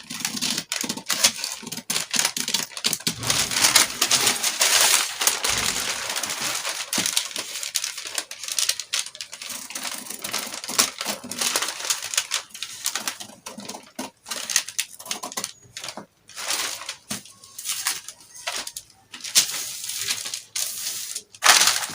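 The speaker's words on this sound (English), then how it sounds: "And I can now cut out my armhole for the" Scissors cut along a paper body pattern to shape the front armhole, making dense, continuous crisp snips, rustling and crinkling paper noise close by, steady and fairly loud throughout with no voices.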